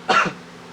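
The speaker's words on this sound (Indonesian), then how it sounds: "batuk dulu." A single short, close cough bursts out alone, then quiet follows.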